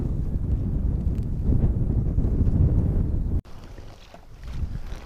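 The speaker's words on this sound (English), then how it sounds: "So, obviously, the wind is always problematic." Wind buffeting the microphone aboard a fishing boat on cold winter water, a loud, low, gusty rumble that drops sharply after a few seconds and then rises again, no voices.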